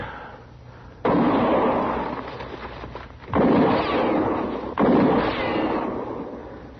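Gunshots in a Western radio drama, three heavy booming reports with long rolling echoes spaced a couple of seconds apart, loud and close.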